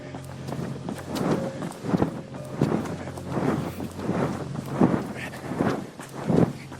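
Wind blows outdoors in rolling, buffeting gusts that rush and swell over the microphone in uneven surges throughout.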